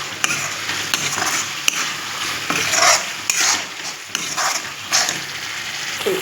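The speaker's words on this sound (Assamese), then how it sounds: "মছলা যিবিলাক মছলাখিনি ভাজি আছে সেইখিনি ধুনীয়াকৈ মছলাখিনি পনীৰত এতিয়া ধুনীয়াকৈ সোমাই যাব" Spices, chopped tomatoes and paneer fry in a pan, giving a steady close sizzle broken by repeated scraping stirs and light clinks of a utensil against the pan, with no talking.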